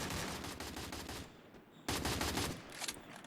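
M4A1 rifle gunfire in a video game: rapid automatic bursts, loud and close, break off briefly into near-silence, then resume in a dense stream with no talking.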